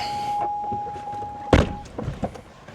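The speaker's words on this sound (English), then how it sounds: "I have to shut this door" A C6 Corvette's car door slams shut with a single heavy thunk, after a steady chime tone and followed by faint rustling.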